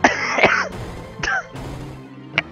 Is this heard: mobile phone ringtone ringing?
no